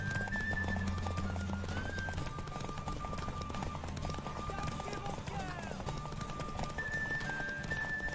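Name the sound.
horse galloping in The Witcher 3 video game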